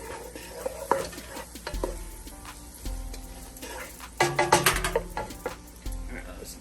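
Butter being stirred with onions and bacon in a hot pan, close scraping strokes and spoon knocks over a soft sizzle, with a busier burst of clatter near the end and brief murmured speech.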